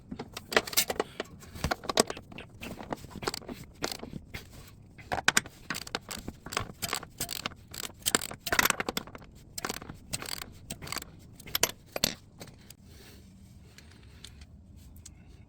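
Bolts on a Toyota Grand Highlander tow hitch being tightened with a wrench: a dense run of sharp metallic clicks, ratchet ticks and clanks, close and irregular, easing off near the end.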